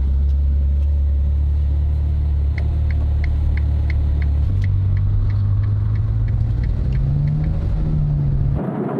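A Ferrari 812 Superfast cruises on the road, its engine a loud, steady low rumble heard from inside the cabin, with pitch shifting slightly as it changes gear and a soft repeating ticking sound over the top.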